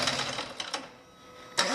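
An engine cranking over without firing while oil pressure builds, a steady mechanical churn with a few clunks and a sharper burst near the end.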